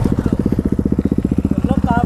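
A Yamaha R15 V3 motorcycle engine at a drag race throbs close by in a fast, even pulse like a rough idle, with a short voice cutting in near the end.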